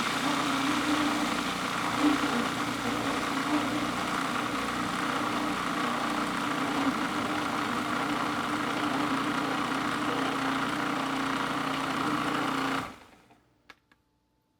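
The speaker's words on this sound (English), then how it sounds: "we take our nuts, we're going to put them into a food processor" Food processor grinding nuts in a kitchen, a steady loud whirring motor hum running continuously, then winding down and stopping, followed by a couple of faint clicks.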